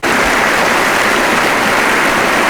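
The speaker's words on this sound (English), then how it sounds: "This is the lovely big river which we have to cross now" Steady broadband rush of a big river flowing on a multi-day bushwalk, close and continuous with no voices.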